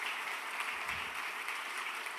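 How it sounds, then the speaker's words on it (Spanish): A church congregation applauds steadily, a dense, even wash of clapping from many hands heard at a moderate distance for the whole moment, with no voices over it. "Si va a aplaudir al Rey, hágalo con fuerza,"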